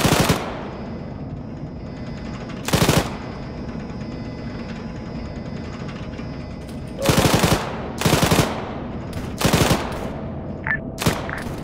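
Bursts of machine gun fire in the Arma 3 video game, several short loud volleys over a steady vehicle engine drone, with a few smaller rattles near the end.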